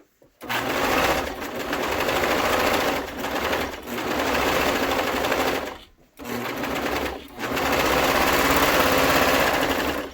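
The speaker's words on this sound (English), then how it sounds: "just serge the main center seam" A serger sewing machine runs steadily as it serges the center seam of a cloth face-mask liner, a loud continuous chattering hum broken by two brief pauses.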